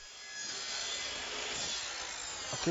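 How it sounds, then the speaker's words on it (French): A steady rasping saw cutting through a plastic drainpipe, continuous back-and-forth strokes close by, with a brief knock near the end. "Bas scie le tuyau de décharge à la longueur souhaitée"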